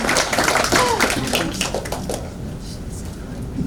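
An audience applauds a speaker being welcomed onstage at a youth summit, with a dense wash of clapping that begins loud and gradually thins out.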